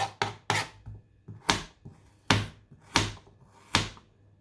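A knife chops a scraped root on a board, firm separate thunks landing in an uneven rhythm with short pauses, close and clear with no talking.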